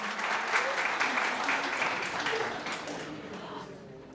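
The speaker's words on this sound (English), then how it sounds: "Let's welcome her with a big round of applause." A panel discussion audience gives a warm round of applause to welcome a panelist, continuous clapping of moderate loudness that slowly fades over a few seconds.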